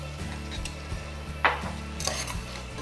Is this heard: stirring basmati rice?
yes